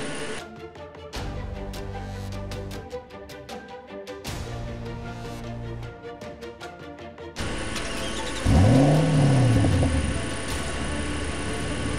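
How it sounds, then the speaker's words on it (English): A car engine starts in an augmented reality showroom app. Repeated mechanical whirring bursts lead into an idling rumble, followed by a rising and falling tonal sweep over steady engine noise. "start the engine."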